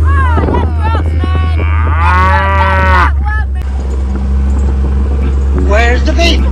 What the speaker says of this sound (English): You're the ugliest cow I've ever seen.